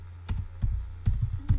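Keys clack on a computer keyboard while someone types into an Excel sheet, a handful of irregular close taps and thumps with no voices.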